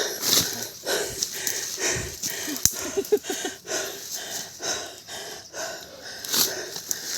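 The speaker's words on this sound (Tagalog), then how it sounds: "hindi na ako makapagsalita sa sobrang hingal" Heavy, ragged panting from a hiker exhausted while climbing uphill on a mountain trail, close and continuous, with wheezy breaths and snorts.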